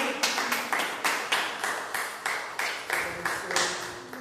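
A church congregation applauds together, rapid hand claps forming a steady, moderately loud wash with rhythmic swells, no voices rising above it.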